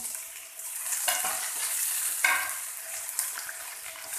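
Chopped tomato with ginger and other ingredients is stirred in a hot pan for matar paneer, a continuous crackling sizzle broken by a couple of louder spoon scrapes, with no talking.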